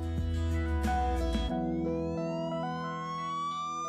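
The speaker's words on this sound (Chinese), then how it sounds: "外面已经响起了警笛的声音" A police car siren wails loud and close, its rising and falling tones sweeping steadily with no voices over it.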